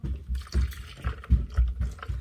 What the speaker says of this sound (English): Now we're gonna put the milk